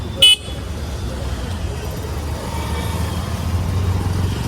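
A car being parked at the destination: a low, steady engine rumble with one short horn toot near the start and muffled voices in the background.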